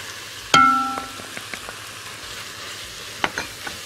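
Onion drops into minced meat already frying with peppers in a pan, giving a sharp sizzle that fades, followed by a few faint stirring clicks.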